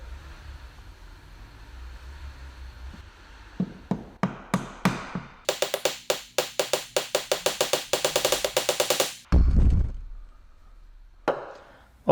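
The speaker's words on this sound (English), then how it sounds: "And now the hammer comes into play." Metal hammer rapping on a paper-wrapped Jaguar S-Type wiper arm, loud close strikes starting sparse then speeding into a rapid run of sharp metallic taps for several seconds, followed by a thud and a pause before a few more hits.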